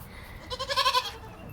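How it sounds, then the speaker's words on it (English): A Nigerian dwarf goat gives one drawn-out, wavering bleat at moderate distance on a homestead, rising and trembling for about half a second over quiet background. "We have Nigerian dwarf goats."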